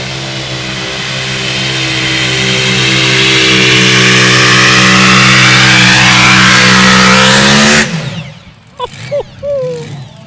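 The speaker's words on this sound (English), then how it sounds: "Wenn so ein V8 komplett hochdreht neben dir" A V8 engine in an unlimited mini rod tractor-pulling machine revs flat out in a long, loud, rising roar close by, then cuts off abruptly, leaving crowd noise and a few faint voices.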